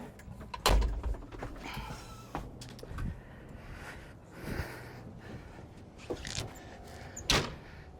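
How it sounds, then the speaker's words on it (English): A door on a Kalmar DCG180 40,000 lb diesel forklift is swung shut, giving a sharp metallic thump near the start and another near the end, with softer rattles and clicks between in a quiet setting. "I'll go ahead and close up this door."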